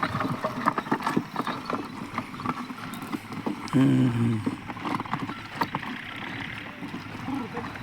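Bullocks' hooves clop in an irregular walking rhythm on hard ground, with a voice speaking briefly midway and outdoor background noise.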